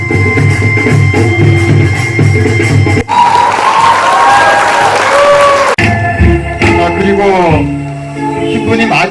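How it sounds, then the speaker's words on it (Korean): Guests applaud at a traditional Korean wedding: a loud burst of clapping and cheering in the middle, with music and voices before and after it. "하나님 기원해 박수 부탁드립니다"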